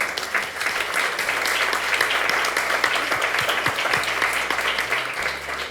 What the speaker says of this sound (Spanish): Quería pedirle una salva de palmas a Pía